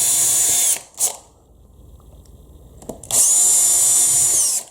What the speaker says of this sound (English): we're just basically going to drill all the way through this leather base